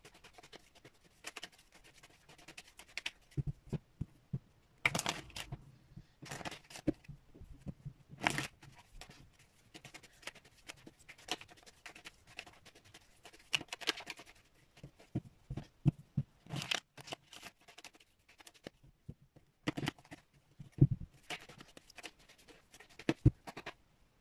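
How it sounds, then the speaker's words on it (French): A deck of tarot cards is shuffled by hand at close range, in quiet, irregular bursts of riffling and sliding with soft taps and pauses between, with no talking. "Et je vais donc procéder au battage des cartes"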